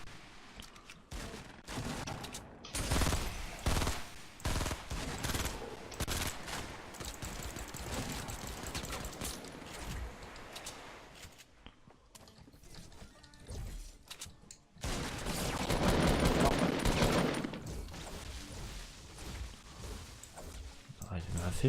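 Gunfire crackles in a shooter video game during a live stream, with bursts of rapid shots and volleys coming and going, mixed with players talking over the action.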